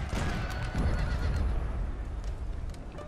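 Cavalry horses of the 11th light horse whinny and gallop in a Napoleon Total War battle, a loud continuous mass of neighs and drumming hooves with no talk.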